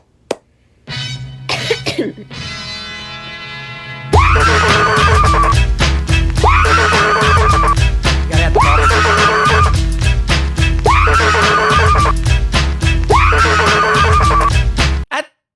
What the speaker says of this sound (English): This is the original video of the woman screaming